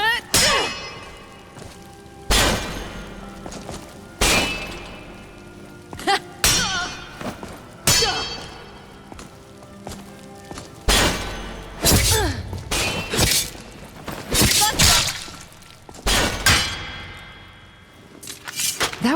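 Swords clash repeatedly in a Skyrim sparring match, sharp metallic clangs and impacts arriving in irregular bursts, some ringing briefly, with thuds mixed in and a grunt or voice now and then.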